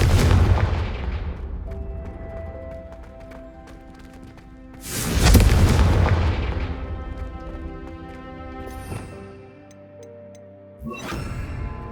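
Confringo fire spell explosions in the Hogwarts Legacy video game: two loud, booming blasts, each trailing off in a long ringing decay, with a sharper crack near the end.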